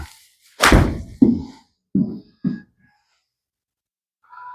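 A golf iron, from a set of irons, strikes a ball on the course for a roughly 139-yard shot with a slight draw, giving one sharp thunk. A few brief breathy sounds follow, then quiet.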